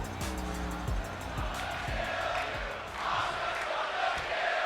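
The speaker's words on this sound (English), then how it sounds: "the crowd here chanting for Asuka" A WWE 2K24 video game arena crowd chants for Asuka at Night of Champions, a loud rhythmic roar with repeated voiced pulses that fades into a broader, steady crowd noise.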